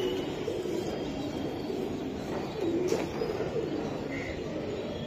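Soft, low racing pigeon coos repeat a few times against a steady outdoor hum, with a faint chirp or two nearby.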